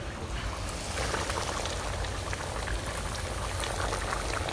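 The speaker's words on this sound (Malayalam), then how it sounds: "പാൻ വെച്ചിട്ടുണ്ട്, കുറച്ച് ഓയിൽ ഒഴിക്കുന്നുണ്ട്." Cooking oil heats in a pan for a Malabar beef dum biryani, giving a soft, continuous sizzling hiss that stays even and fairly quiet throughout, with no talking.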